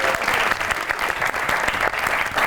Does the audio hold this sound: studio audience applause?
yes